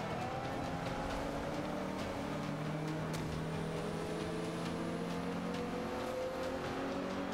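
A Volkswagen Golf race car in Forza Motorsport 5 holds a faint, steady engine hum with gear-shift changes in pitch, a low continuous drone without voices.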